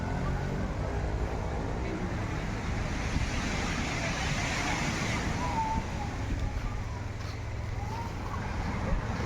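Sea waves rolling in at a beach campsite, a continuous loud wash of surf with a deep rumbling undertone that swells slightly mid-way, with no clear talking.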